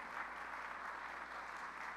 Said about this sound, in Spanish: dar un aplauso o algo al Señor